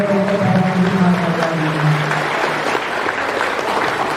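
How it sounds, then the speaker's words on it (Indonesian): Steady, full applause from an audience at an academic talk honouring a speaker, dense clapping throughout with a faint tonal hum beneath it early on. "Beri tepuk tangan yang meriah sekali pada Dr."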